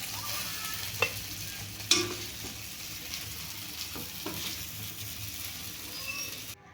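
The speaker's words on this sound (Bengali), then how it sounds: "ছিটিয়ে আরেকটু নেড়েচেড়ে নামিয়ে নেব" Neem leaves and eggplant frying in a pan, a steady close sizzle broken by scraping stirs and a couple of sharp clinks of the spatula, no talking.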